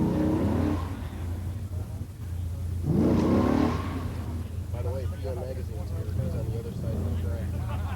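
Stock Hemi muscle cars, such as a 1967 Coronet Hemi automatic and a 1969 Road Runner Street Hemi, drag racing at a 1986 pure stock event; a loud engine roar swells midway over a steady rumble, with an announcer talking throughout.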